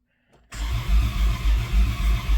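A 1991 Dodge Grand Caravan SE engine cranks over steadily after a click, a close, loud, rhythmic chugging of the starter turning the motor without firing.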